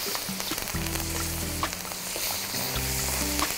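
A ribeye steak sizzling in a pan with butter, garlic and thyme while it is basted, a loud continuous frying crackle close by, with the spoon scraping now and then.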